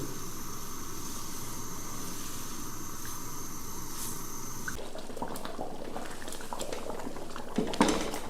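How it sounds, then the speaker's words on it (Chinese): Glutinous rice boiling hard in a pot of water over high heat, a steady close bubbling roil with faint clinks near the end. "水开之后，把米给它下进去，开大火煮。"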